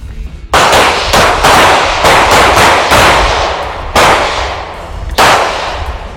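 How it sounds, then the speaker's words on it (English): Gunshots at a shooting lesson crack out loud and close in an uneven volley, a dense run of overlapping blasts followed by a few separate single shots. "Gun's going to go off."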